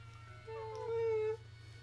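A single cat meow in the puzzle adventure game Professor Layton, a short, faint, rising tone over a low steady background hum.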